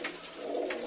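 Soft cooing of Madrasi pigeons, a short faint low coo with a couple of brief higher notes, heard close and alone.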